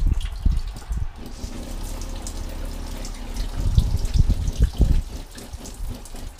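Water from a tap in an off-grid campervan conversion starts as a small trickle, then gushes strongly into the sink with a loud steady splashing flow.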